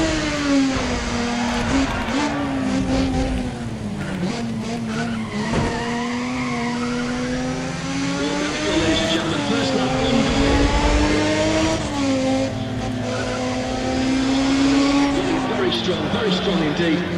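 An Audi race car in Need for Speed ProStreet roars at high revs, its loud, steady engine note rising and falling through gear changes, with tire squeal woven in.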